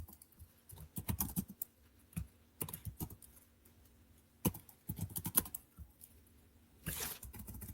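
Fingers type on a computer keyboard nearby in quiet bursts of rapid key clicks separated by short pauses, with one heavier keystroke cluster near the end.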